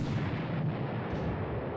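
A 6-inch naval gun in the video game War in the Pacific lets out a single heavy boom whose rumbling blast fills the short moment, loud and close with a dull low-heavy roll.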